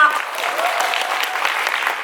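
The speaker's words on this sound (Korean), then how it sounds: "박수 한 번만 더 주시면 좋을 것 같습니다" Dense applause from a musical theatre audience at a curtain call, a brief continuous burst of many hands clapping with a voice faintly heard underneath.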